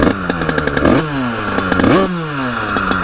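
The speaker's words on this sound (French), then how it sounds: "j'ai essayé de régler un petit peu plus la moto" A Honda HM 86 motorcycle engine with a tuned top end revs hard three times, each rise climbing to a buzzing peak before dropping back, loud and close with some mechanical clatter.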